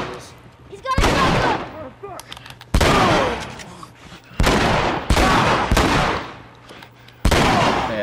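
Sharp, loud gunshots in the video game The Last of Us, six or so separate blasts spaced a second or two apart, each ringing out with a long tail, with talk between the shots.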